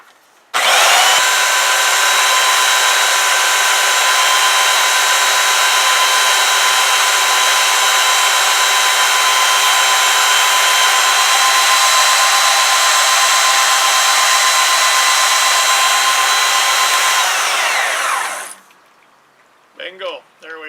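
Power sander running on 120 grit sandpaper while shaping a camera mount part, a loud, steady high whine that starts abruptly, holds for about seventeen seconds, then winds down, followed by brief faint handling noises.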